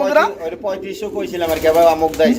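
Soft pouter pigeon coos warble through a busy stretch of people talking nearby at a pigeon sale, the birds only partly audible under the voices.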